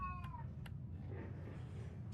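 A cat in the Fallout 4 game meows in a few short, thin calls near the start, over a steady low hum of game ambience.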